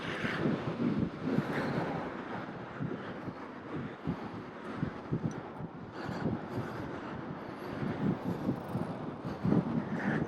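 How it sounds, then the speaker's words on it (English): Gusty wind buffets the microphone while a bicycle rides along a waterside route between Utrecht and Harmelen, a steady rumbling roar with louder surges, no talking. "Getting quite windy."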